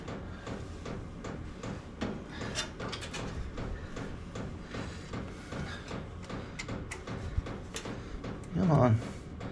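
A ratchet works on the bolts of a water pump, giving close, repeated clicking and mechanical rasping throughout, with a brief louder burst of effort near the end and faint vocal sounds underneath.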